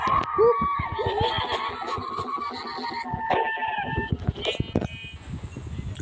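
Sheep in a Minecraft game with the Dwellers add-on bleat a few times amid clicks and game sounds, while someone talks over them.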